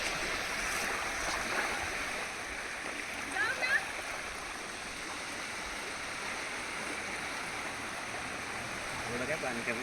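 Sea waves at Alibaug beach, a steady broad wash of surf rolling in with splashing, under people talking nearby.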